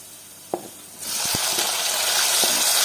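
Onions fry in a pan until reddish for a Telugu ridge gourd and tomato curry, a steady close sizzle swelling up after a few soft clinks and staying loud to the end.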